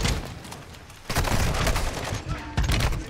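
Rapid bursts of gunfire ring out in the Call of Duty DMZ video game, loud and close, a sustained volley that surges again near the end, with faint voices mixed in.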